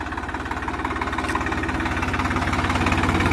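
Swaraj 744 XT tractor engine working a field under load, a loud close diesel chug with a fast even throbbing rhythm that holds steady throughout.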